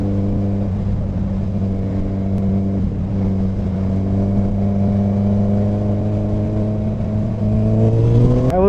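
A Honda CBR 1000RR SP sportbike's engine holds a steady, smooth harmonic drone while leaning through a turn, then rises sharply in pitch as the throttle opens near the end, loud and close with no talk.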